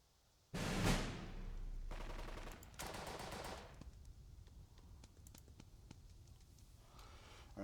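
Machine-gun fire in the war strategy game Burden of Command: a sudden loud burst of rapid automatic shots, then a second sustained volley, trailing off into scattered distant cracks and quieter battlefield noise.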